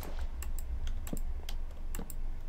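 Typing on a Microsoft computer keyboard produces a series of sharp, irregular key clicks, close and clear over a low steady background hum.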